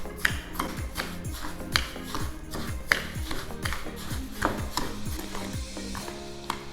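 A spoon stirs a sauce of sugar, vinegar, soy sauce and garlic, giving a steady run of close clinks and scrapes against the bowl with a sharper tap now and then.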